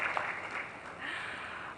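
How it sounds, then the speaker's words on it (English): Faint, steady applause from an audience at a women in energy forum, a soft continuous patter of many hands with no voices over it. "that's one thing that deserves a round of applause"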